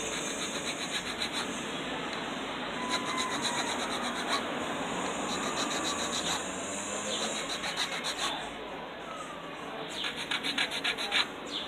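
A metal file rasps steadily back and forth across wood, shaping a wooden fishing lure, in continuous rough strokes, close and fairly quiet.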